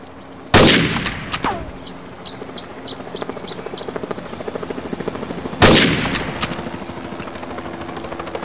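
Gunfire in Counter-Strike 1.6 on the es_border map, with two sharp loud shot bursts, each trailing into a rattle of rapid repeated reports, plus small high chirps between them.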